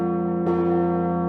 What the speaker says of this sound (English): The bell is struck with a hammer to produce a sound, which is then analyzed for its tonal quality.